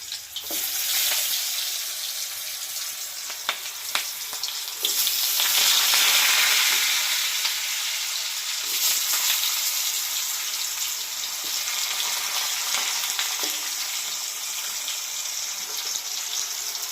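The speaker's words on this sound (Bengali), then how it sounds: "ভাজা তেলের পরে আমি আলুটা ছেড়ে দিচ্ছি" Potato pieces frying in hot oil in a home kitchen, a steady close sizzle with bubbling and occasional stirring clinks, swelling briefly louder midway and holding at a constant level with no talking.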